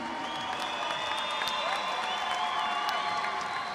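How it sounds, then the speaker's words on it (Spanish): Crowd applause and cheering at an MMA event in Puerto Plata, a dense, steady roar of clapping under whistling tones and an announcer's voice. "Fuerte que se siente el aplauso en Puerto Plata para su hijo, Chichi La Máquina."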